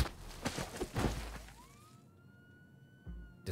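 A police siren in the Jenny LeClue video game rises in a single smooth upward wail after a burst of louder bangs and clatter, then holds one steady tone that gradually fades.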